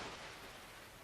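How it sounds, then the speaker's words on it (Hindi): Heavy rain pouring down at night in a village, a dense, even hiss with no breaks, faint and distant throughout. "उस रात बावशी गांव में बहुत तेज़ बारिश हो रही थी"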